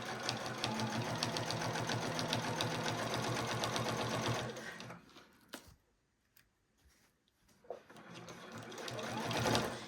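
A sewing machine stitches quilt-as-you-go dish mat fabric with a long stitch in a rapid, steady mechanical chatter that stops for several seconds of near silence, then starts up again.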